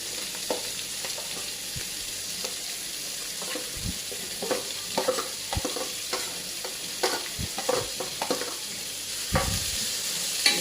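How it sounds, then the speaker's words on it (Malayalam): Small chopped onions sizzle and sauté in a pot for one-pot chicken biryani, with a steady fry hiss broken by repeated stirring scrapes and clacks. No one speaks. "അതും കുഞ്ഞതായിട്ട് അരിഞ്ഞ് അതും കൂടി ഇട്ട് നല്ലപോലെ വഴറ്റിയെടുക്കണം"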